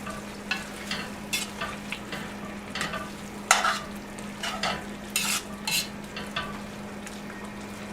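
Garlic stirred in a frying pan for jambalaya: a low steady sizzle under intermittent scrapes and clinks of a utensil against the pan, close and moderately quiet.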